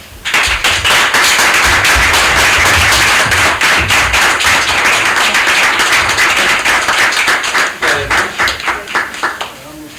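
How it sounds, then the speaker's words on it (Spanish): A crowd applauds loudly for nearly ten seconds, a dense wash of many hands clapping with scattered sharper claps and a few voices. The applause thins and fades toward the end. "vamos a dar un inmenso aplauso"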